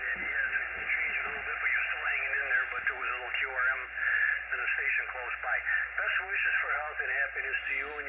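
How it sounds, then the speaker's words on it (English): A 20-meter amateur radio contact received on a Xiegu X6100 running 10 watts, with a band-limited single-sideband voice talking continuously over a steady hiss. "QSO with the Xiegu X6100 on 20 meters running 10 watts into Arizona."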